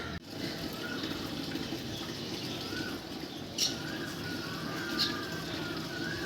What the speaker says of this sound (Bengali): জল দিয়ে নি গাছে